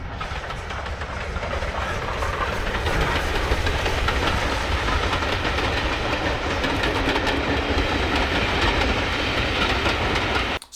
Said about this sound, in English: Steam train alert!